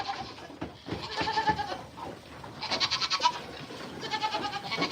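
Nigerian dwarf goats on a farm, with several bleats rising over a noisy outdoor background, moderately close and fairly loud.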